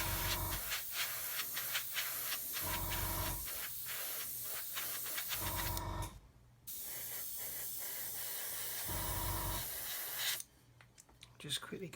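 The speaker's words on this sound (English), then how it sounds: "I'm currently spraying at about, I don't know, 18-20 psi" Airbrush spraying paint at about 18-20 psi onto a 1/35 Copper State Models Lanchester WW1 armoured car kit, a close, steady hiss in repeated bursts with short pauses between passes.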